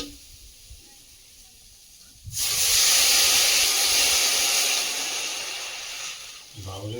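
Water poured into a hot pan of fried bitter gourd and eggplant with salt and turmeric sets off a sudden loud sizzling hiss that slowly fades, then a brief clatter near the end.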